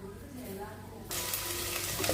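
Peas, onion and carrot hit hot oil with a sudden loud sizzle that keeps hissing steadily, after a quieter moment of faint background sound.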